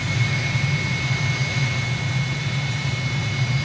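A jet aircraft engine in Microsoft Flight Simulator drones loudly with the canopy open, a steady low rumble with a thin high whine on top, continuous and unbroken with no talking.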